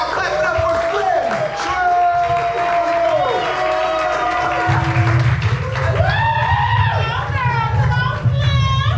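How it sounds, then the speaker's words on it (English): Applause and cheering from a crowd at a poetry slam for a poet in the second round, sustained clapping and whoops filling the room with children's and other voices mixed in. "And keep that applause going for your second poet."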